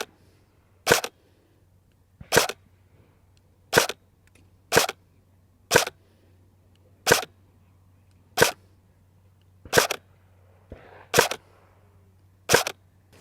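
An AATV Arcturus GR16 MOD5 HK416 airsoft replica fires 0.25 g BBs in ten sharp single shots spaced about a second apart, crisp and close, with quiet gaps between.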